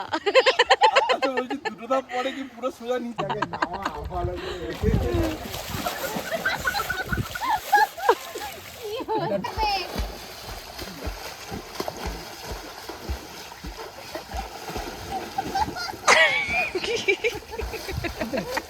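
In cold weather, people jump into a village pond, raising water splashes and sloshing amid loud shouting and talking outdoors, with some birds audible.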